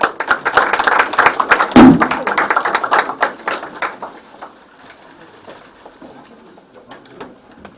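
Audience applause at a church workplace-ministry conference, a dense burst of clapping welcoming a deacon to the stage that swells quickly and then thins and fades over several seconds, with no talking.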